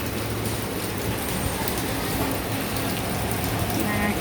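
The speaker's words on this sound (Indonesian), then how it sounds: "Wah, masih hujan." Heavy rain pours steadily in Hong Kong, a dense continuous hiss close by with faint rumble underneath, broken by occasional louder drops.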